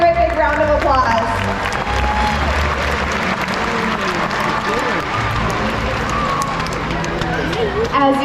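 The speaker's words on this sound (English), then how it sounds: "let's give both of our volunteers a great big round of applause" A crowd applauds at a SeaWorld San Antonio orca show, sustained clapping from a large audience blending with an announcer's amplified voice and background music.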